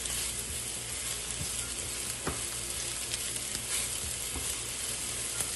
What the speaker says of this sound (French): On va sauter les champignons.